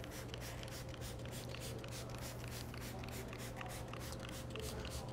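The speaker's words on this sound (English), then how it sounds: "simply grab your clay bar and glide it left to right" Soft, steady rubbing and swishing as a clay bar glides back and forth over car paint, repeating in short left-to-right strokes over a low background hum.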